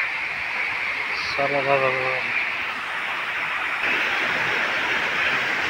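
A river flows near a cave, a steady broad rushing wash at moderate distance, briefly overlaid by a voice partway through.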